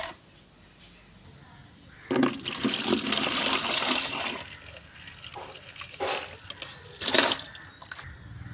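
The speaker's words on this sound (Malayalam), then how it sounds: "ഇനി ഇതിലേക്ക് ഒരു ലിറ്റർ പച്ചവെള്ളവും കൂടി ഒഴിക്കുക" Water pours and splashes into a container in a couple of bursts, rushing louder then easing off, close to the listener, as a liter of plain water dilutes a fermented plant solution.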